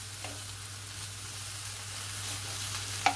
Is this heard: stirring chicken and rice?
yes